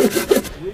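A hand saw cuts through wood outdoors at a wilderness campsite: a couple of quick, close, rasping strokes within under a second, followed by a brief scrape.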